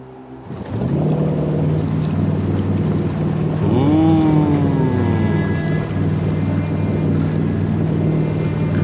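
A boat in Fallout 4 travels steadily over water with a loud, continuous engine drone and wind rush, rising in pitch partway through as it moves along, with no voices.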